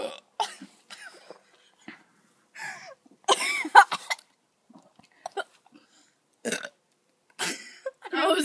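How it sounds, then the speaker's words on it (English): Several short burps between pauses during a casual burping contest among friends after drinking soda, close and fairly loud, with brief laughter and vocal sounds in between. "No, just keep like little burp."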